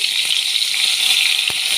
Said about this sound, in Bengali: এবার আমি এই তেলের মধ্যে একে একে ছেড়ে দিচ্ছি